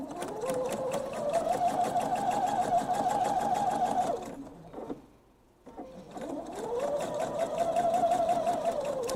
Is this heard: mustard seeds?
no